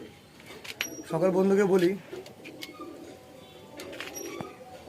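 A top-quality pigeon, an Andra tiplar, coos in a single clear rolling burst close by, with someone speaking around it.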